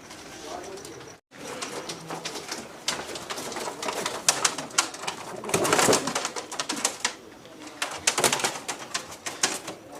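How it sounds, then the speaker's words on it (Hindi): Pigeons coo and flutter nearby, with soft rustling and occasional mechanical clicks, a voice speaking intermittently among the birds. "नायाब कबूतरों का शौक़ करा रहे हैं"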